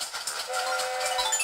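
Steam train running in the Spirit Tracks video game, a steady mechanical chugging rumble with bright hiss and clanking, continuous and fairly close throughout.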